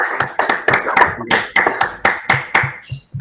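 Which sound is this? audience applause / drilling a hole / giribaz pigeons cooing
audience applause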